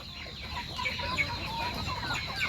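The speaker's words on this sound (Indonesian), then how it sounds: "dengan ayam yang beraktivitas setiap hari" Free-ranging native village chickens (ayam kampung) cluck repeatedly in short, overlapping bursts behind a house, moderately close, with a steady ambient hiss beneath and no talking.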